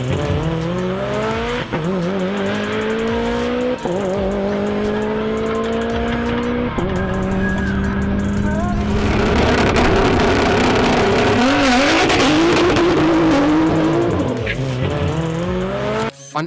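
A turbocharged drag race car with a sequential gearbox launches down the quarter mile, its engine screaming loudly and rising through several quick gear changes, tires squealing, then roaring into a harsher, noisier full-throttle run.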